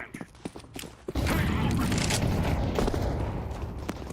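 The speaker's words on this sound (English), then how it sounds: "Flashbang." A flashbang grenade going off in Counter-Strike 2: a few light clicks and mechanical taps, then a sudden loud blast that rings on with a dense roar to the end.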